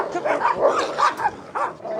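A puppy on a farm yips and barks in a quick series of high, close calls mixed with whimpers, about half a dozen in two seconds.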